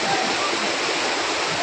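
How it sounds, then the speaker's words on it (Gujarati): The Koshmal waterfall pours down from above in a loud, continuous rushing roar, close and steady for the whole short stretch. "ઉપરથી પાણી પડે ને"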